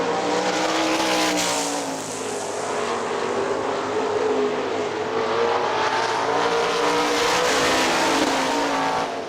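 Sprint cars race on the dirt oval at Hartford Speedway Park, a steady, loud roar of several engines blending together and swelling slightly as the pack passes.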